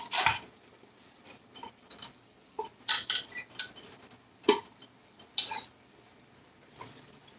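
A metal spoon clinks and scrapes against a pot while stirring, in sharp irregular bursts separated by short quiet gaps, close and fairly loud.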